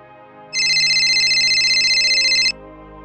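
A mobile phone ringtone for an incoming call in a Gujarati short film, a bright electronic tone ringing steadily for about two seconds, loud and close, alone in a quiet room.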